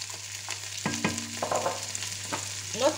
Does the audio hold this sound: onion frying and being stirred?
yes